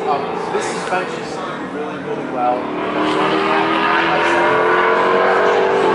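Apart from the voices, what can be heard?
Shelby GT350 Mustang cars passing on Sebring racetrack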